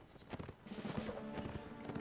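Horse hooves clip-clop in a quick irregular rhythm on hard ground in the Napoleonic Wars video game, faint and slightly distant, with no talk.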